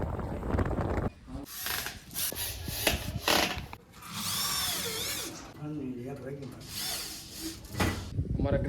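A power drill bores a lock hole into a door, whining in repeated bursts that start and stop, with voices mixed in.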